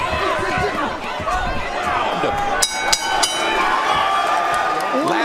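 A boxing arena crowd roars and chatters steadily in support of Dominican fighter Hector Garcia during his bout with Chris Colbert, with a few whoops and sharp bursts rising above the continuous dense din.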